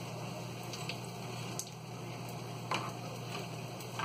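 Potol (pointed gourd) pakoras frying in hot oil in a pan, a steady soft sizzle and bubbling with a few sharper crackles and pops, close and continuous with no talk.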